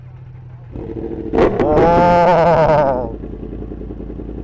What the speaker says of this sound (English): Come on, fire up your engines.